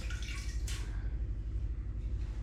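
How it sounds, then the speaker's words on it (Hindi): Water pours steadily into a cooking pot of palak gosht with ginger and garlic, a continuous close splashing trickle with a brief brighter gush partway through. "इसमें थोड़ा सा और पानी डाल देती हूँ"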